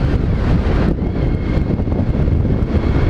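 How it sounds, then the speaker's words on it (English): Heavy wind buffeting a motorcyclist's helmet microphone while riding, a loud continuous low roar with gusty fluctuations filling the whole stretch, no talking. "it's windy today"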